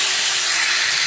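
Moong dal lentils hit hot oil with spices and ginger, letting out a loud, steady, bright sizzling hiss that fills the moment without a break.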